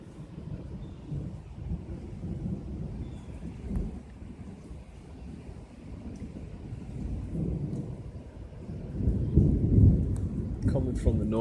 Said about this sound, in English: Now the thunder seems to be coming from every direction.